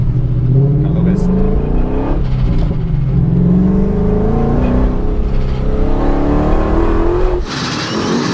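A BMW E39 M5's supercharged S62 V8 engine revs hard and loud, its pitch sweeping up and down repeatedly, with a sharper burst near the end.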